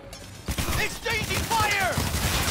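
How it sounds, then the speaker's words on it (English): Rapid gunfire bursts during a firefight in the video game Cyberpunk 2077, loud and close, with a voice calling out mixed among the shots. "Exchanging fire!"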